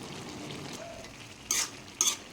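Mixed vegetables with soybean and dal cooking in a pan, a soft continuous sizzle under light stirring, followed by two sharp metallic clinks of a utensil against the pot.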